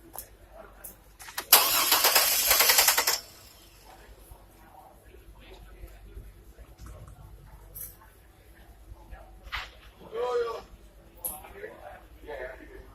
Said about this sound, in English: right now we're going to crank the car